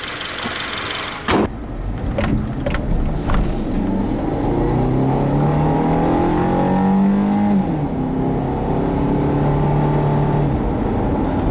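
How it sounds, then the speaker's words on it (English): A 2013 Subaru Forester 2.5i with its standard 2.5-liter engine accelerating on the road, a steady hum whose pitch climbs and falls through several shifts, heard from inside the cabin without talk. "let's take a look at how the standard engine drives"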